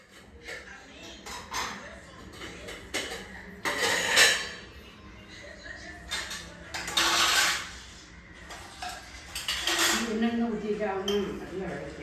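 Cooking pots and vessels are picked up and set upside down on a shelf while moving house, bringing intermittent metallic clanks and scrapes at close range, mixed with people talking throughout.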